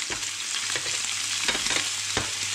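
Venison chops frying in butter in a pan, a close, continuous crackling sizzle with bursts of spitting fat, no voices.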